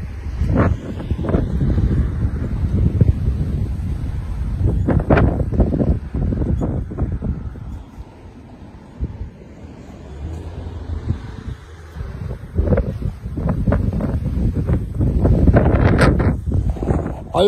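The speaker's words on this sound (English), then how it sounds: "You can tell how windy it is here by the tree, how it moves." Strong coastal wind blows through a tree at Jaywick, England, a steady rushing roar with gusty surges and buffeting against the microphone across the whole stretch, easing briefly midway before picking up again.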